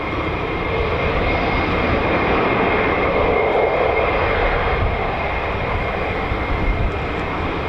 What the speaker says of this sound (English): I can actually hear F-35s from our right.